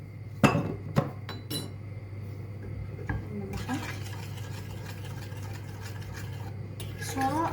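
A honey cake mixture with baking soda is worked in a bowl: a few sharp clinks of the spoon against the rim, then a steady, close scraping and stirring that runs to the end.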